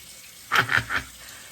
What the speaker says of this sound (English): let me go ahead and rinse and see how it feels afterwards